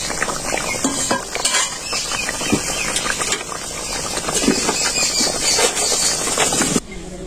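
Fish sizzling and frying in hot oil during village cooking in Bangladesh, a steady loud crackle with stirring and scraping throughout, cutting off sharply near the end.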